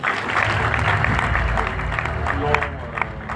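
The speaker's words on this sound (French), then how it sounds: "Est-ce que vous pouvez vous applaudir?" A large audience at a live evening show in Abidjan claps and cheers steadily, a dense wash of applause filling the space with crowd noise mixed in.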